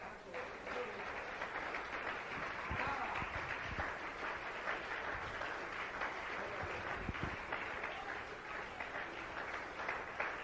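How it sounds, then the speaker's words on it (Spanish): A church congregation applauding, a dense, steady wash of many hands clapping, fairly distant and continuous throughout, with some voices mixed in. "Dele ejercicio a sus manos con un aplauso al Señor."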